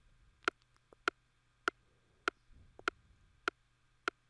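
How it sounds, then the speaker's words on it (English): Metronome-like tick from an Afrobeats drum groove, seven sharp, evenly spaced clicks about every 0.6 seconds, faint and dry against a quiet low hum. "this sound that sounds like a tick sound"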